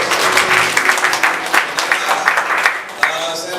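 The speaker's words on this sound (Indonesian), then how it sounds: "Tepuk tangan untuk Tuhan Yesus." A church congregation applauds during a Sunday Christmas worship service. Dense, loud clapping fills the room and continues throughout, with crowd voices mixed in.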